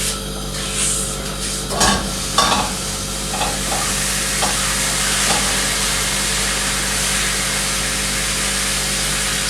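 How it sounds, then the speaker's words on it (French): Pieces of beef searing in a hot frying pan, a continuous sizzle with a few clanks and stirring scrapes early on, then steady frying noise alone. "Je vais aller mettre mes morceaux de bœuf à cuire"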